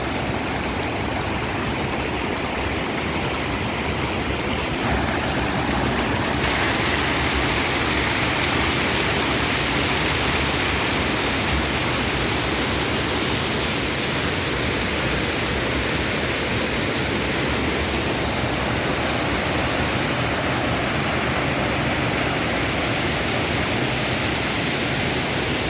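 Water pours over a village check dam in a continuous, loud, broadband rush that holds steady for the whole stretch, with no voices over it.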